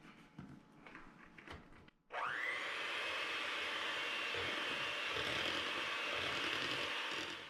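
An electric mixer whips egg, egg yolk and vanilla for cookie dough, starting abruptly and holding a steady, fairly quiet whir for about five seconds after some faint clatter.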